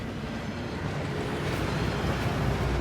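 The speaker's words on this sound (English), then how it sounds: "That waterfall washes away all enchantments." A steady, rushing waterfall in the Gringotts vaults of Hogwarts Legacy, a continuous broadband roar with no breaks, moderately loud and heard alone.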